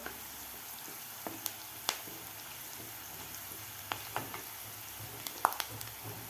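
Onion and curry leaves sautéing in a pan for a spicy country-style pigeon pea amti, a soft steady sizzle broken by occasional sharp pops and crackles, with no talking.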